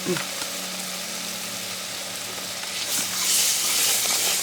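A pot of hot, budget-style rich gumbo being stirred over the heat gives a steady close sizzle and hiss, with faint scraping, swelling louder toward the end.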